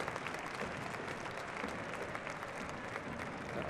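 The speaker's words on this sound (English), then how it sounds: "Applause from the crowd, as you mentioned" Broad, steady applause rolling through a stadium crowd at a Portland Thorns versus Kansas City Current NWSL soccer match, a dense wash of clapping heard from a distance.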